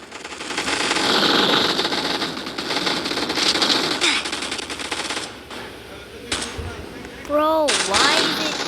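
Rapid bursts of gunfire crackle through a video game gun fight arena, dense and continuous for several seconds, thinning briefly before resuming with whooshing effects near the end.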